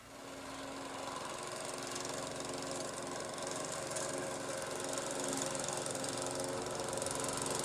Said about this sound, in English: The power mower made the work easier,